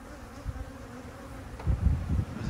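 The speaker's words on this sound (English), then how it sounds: "We got a little bit of a bee situation going on." A swarm of about a million bees around a barn in Jarrell, Texas, gives off a steady low hum. It swells into louder, throbbing buzzing surges toward the end, with no voices.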